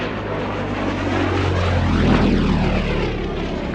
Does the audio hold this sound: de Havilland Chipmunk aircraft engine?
yes